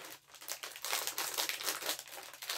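Plastic packaging of vanilla cream wafer rolls crinkles and crackles close up in a steady stream of rustling bursts, quiet overall and with no talking.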